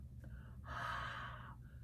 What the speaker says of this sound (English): put your hand in front of your mouth and breathe out